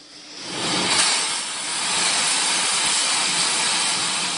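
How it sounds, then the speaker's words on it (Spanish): Dozens of antique engines running together inside an engine museum in Vista, California, near San Diego, giving a loud, steady, hissing mechanical roar that swells in the first second and holds continuously with no talk. "Pero su sonido llena el Museo de Motores Antiguos en Vista, California, cerca de San Diego, donde hay docenas de máquinas funcionando."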